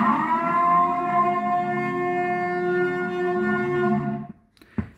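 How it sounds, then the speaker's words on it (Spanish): Incoming call tone from a Charly RCI-2950CD CB radio: a sustained, bright electronic tone holding steady for about four seconds before cutting off, followed by a brief click. "Este es el llamador de entrada número 1."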